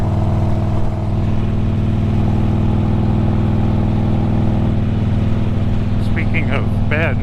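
A car drives along a curving rural road, its steady mid-pitched engine hum and road rumble running continuously up close, with a few brief high squeaky sounds near the end.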